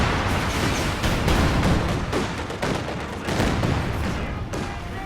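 Katyusha rocket barrage in a strategy video game, dense, continuous rumbling impacts and bursts overlapping for several seconds, loud and sustained with repeated sharp blasts.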